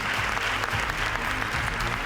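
An audience at a local sports awards gala applauds loudly and continuously, a thick wash of many hands clapping close by with no pause.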